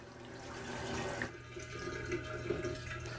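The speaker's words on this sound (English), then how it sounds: "So I'll just put a couple of pitchers of cold water in." Cold water pours from pitchers into a container while sanitizing equipment for making apple cider, a steady close splashing rush that runs alone throughout.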